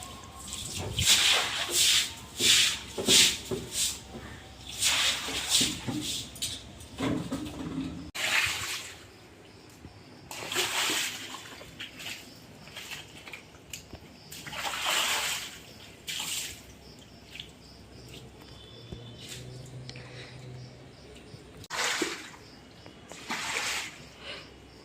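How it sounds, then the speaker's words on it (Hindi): Ground floor of a house being washed and scrubbed with water: intermittent splashing, sloshing and brushing bursts, some rapid and repeated, others isolated, with quieter pauses between, close by. "तो हम नीचे धो रहे हैं, तो धो लेते हैं अच्छे से"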